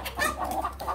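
Hens in a coop cluck and murmur close by in a busy overlapping chorus, with a low steady hum underneath.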